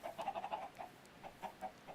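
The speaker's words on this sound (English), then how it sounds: "So many chickens." Chickens clucking in Minecraft, a faint series of short rhythmic clucks repeating over two seconds.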